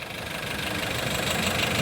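A used Hyundai car engine runs at idle, a steady close mechanical hum with a slight knocking rhythm and a gradual rise in loudness over a brief stretch.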